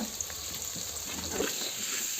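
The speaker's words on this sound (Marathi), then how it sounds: "बघा फोडणी देऊन घ्यायची चांगली मस्त" Spices tempering in hot oil on a wood-fired chulha for masala rice, giving a steady, close, continuous sizzle and crackle with no talking.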